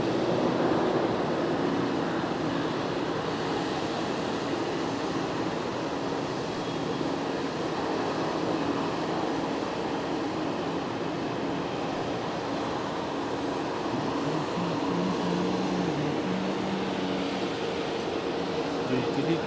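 A light training aircraft departs on a flying lesson at Geneva Airport, its engine drone steady and fairly distant for the whole stretch, with airport ambient noise and some background voices.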